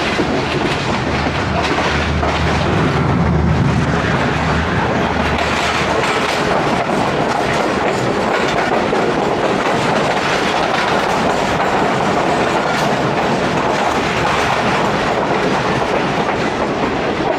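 Inside an old AC sleeper carriage of the 8DN Tezgam passenger train between Rawalpindi and Lahore, a continuous rumble of wheels on rails carries rhythmic clickety-clack beats over a steady low drone.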